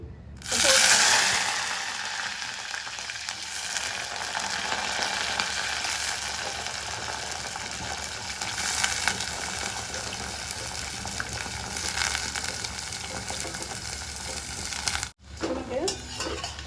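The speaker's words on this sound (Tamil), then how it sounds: "கத்திரிக்காய் ஓரளவு வதங்கி இருக்கு" Steady sizzling of eggplant frying in a hot pan, with occasional stirring scrapes, continuous and fairly close, briefly dropping off near the end.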